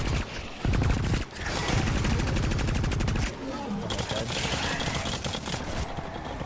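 Sustained automatic gunfire from a weapon in the video game The Cycle: Frontier, loud rapid bursts with short pauses between them, some voice chatter faintly underneath.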